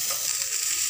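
Egg stirred into cabbage rice frying in a pan, giving a steady bright sizzle throughout, close and constant for about a second with no talk.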